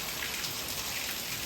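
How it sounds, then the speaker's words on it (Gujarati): Heavy downpour pouring steadily, a dense, even patter and hiss on surfaces, close and unbroken throughout. "વધી ગયો જો વરસાદ"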